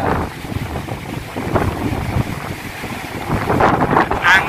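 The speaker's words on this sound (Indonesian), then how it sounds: "Anginnya lumayan kenceng, jadi nggak sumuk." Strong wind buffeting the microphone on a seaside rock at Slili beach in Gunung Kidul, a loud continuous rumbling roar with gusts and faint surf beneath.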